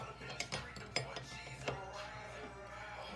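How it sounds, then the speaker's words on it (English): Metallic clicks and clinks of a wrench snugging the brake master cylinder fittings on a 2003 Oldsmobile Alero, several faint, irregular taps close by over quiet background. "Use this wrench just to make sure they're snug."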